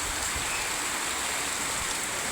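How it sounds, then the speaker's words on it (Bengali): Heavy rain falling steadily in Khulna, Bangladesh, a dense continuous hiss with no gaps, fairly faint and even throughout, with no voices. "আমরা কিন্তু বৃষ্টির ভিতরে আটকে গেছি, আর বৃষ্টি কিন্তু হচ্ছে খুলনায়।"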